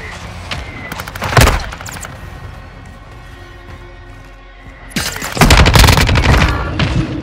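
Gunfire in Call of Duty: Modern Warfare II, with loud close bursts and rattling volleys in two clusters around a quieter stretch, heavy booms mixed in and continuous battle noise underneath.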